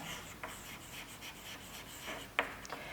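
A pen scratches on paper while writing down the given data of a chemistry problem, quiet intermittent strokes with a sharp tap near the end, close and faint.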